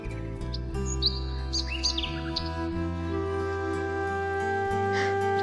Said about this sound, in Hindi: पक्षियों की आवाज पूरे गांव में सुनाई देने लगी।